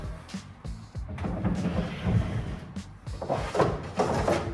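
Soft-close kitchen drawers on a newly fitted display shut in a series of muffled thuds and soft knocks, several in quick succession, with faint room noise and no talk.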